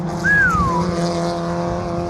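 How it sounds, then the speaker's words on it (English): Race cars in an Excel Cup event lap a circuit, a steady engine drone with one car's higher whine rising and then sweeping down as it passes close by. "Good to see all the cars zipping around track."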